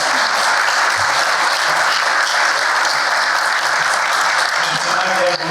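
Audience at a regional planning council's annual meeting giving a sustained round of applause, loud and continuous from many people in a full room, with faint voices mixed in.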